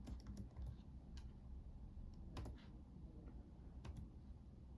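Fingers type steadily on a computer keyboard that has a sticking A key, a run of close, light key clicks with a few sharper taps standing out over a low room hum.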